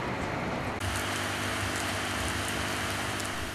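Steady rain pours during an outdoor flag-raising ceremony in Pegunungan Arfak Regency, a dense continuous hiss close by with faint scattered drops and no voices.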